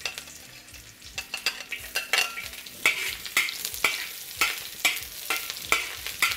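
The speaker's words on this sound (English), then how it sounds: "We need to fry them until they are fragrant." Ginger and shallots frying in a pan over medium heat for crab vermicelli, a steady sizzle broken by repeated sharp scrapes and clicks of a utensil stirring, close and fairly quiet, with no voices.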